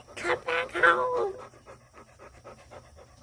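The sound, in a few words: dogs panting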